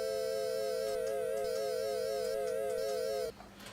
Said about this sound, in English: And then 4-bit sounds like this.